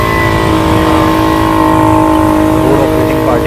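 Vehicles crawl along a waterlogged city road in Guwahati, a dense, loud wash of engine drone and tonal hums with traffic noise throughout, close and continuous.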